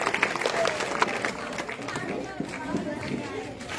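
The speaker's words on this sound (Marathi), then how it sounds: "आणि हा विचार तुम्हाला आवडला असेल तर जोरदार टाळ्या वाजवायला हरकत नाही." Applause from the audience at a 51st anniversary function fills the room, a dense, steady clatter of many hands that holds for the whole stretch with crowd voices mixed in.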